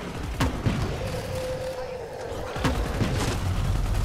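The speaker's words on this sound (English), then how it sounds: "Double explosion." Booming explosions in a zombie shooter game set in Vegas, two heavy blasts about two seconds apart amid constant loud game noise, with a voice talking over them.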